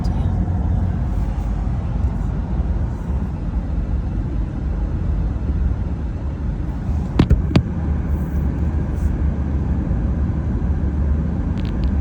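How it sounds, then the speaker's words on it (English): A 2026 Honda Ridgeline pickup truck drives along Highway 19, giving a steady, loud broadband road and engine rumble from inside the cab throughout, with a couple of brief sharp clicks near the middle. "I'm driving a 2026 Ridgeline."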